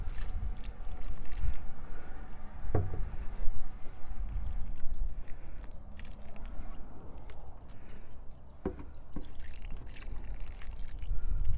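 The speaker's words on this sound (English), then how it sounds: "So I'm just going to use the rainwater." Rainwater is poured from a container onto freshly repotted acerola cherry and roselle plants, a soft continuous splashing and trickling with a few sharp knocks and no talk over it.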